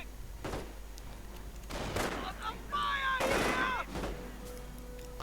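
Gunfire in a real-time strategy match, sharp bursts of shots and impacts scattered across several seconds amid a busy battle soundscape with whooshing effects, no talking.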